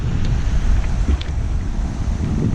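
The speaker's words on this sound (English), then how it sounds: "the wind is coming, you know, from behind the tarp" Wind blows steadily on a beach near an estuary with the tide coming in, a loud continuous rumbling gust buffeting close by with no voices.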